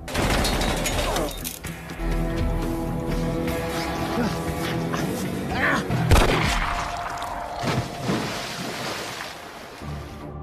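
Gunfire from a thriller film scene, with loud sharp shots and bursts mixed into a dense, noisy action soundtrack with rumbling effects throughout.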